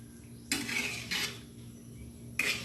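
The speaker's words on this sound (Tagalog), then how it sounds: "Kaya haluin lang natin para hindi siya masunog." Spoon scraping and stirring glutinous rice congee (chicken arroz caldo) in a pot, three distinct bursts of scraping spaced apart, fairly close, with quiet pauses between and no talk.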